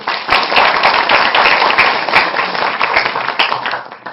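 Sustained applause from a seated audience at a Jeju lecture event, welcoming a KOICA World Friends presenter; dense, steady clapping fills the whole stretch at close range, tapering slightly at the end with no one speaking over it.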